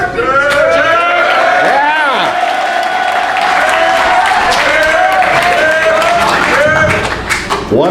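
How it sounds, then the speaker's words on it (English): Audience applause on stage at a high school football event, steady dense clapping and crowd noise sustained throughout, with cow-like lowing tones mixed in. "you milk the applause"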